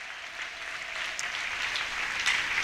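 A church congregation at an evangelism conference opening applauds, a steady dense wash of many hands clapping together with a few sharper bursts.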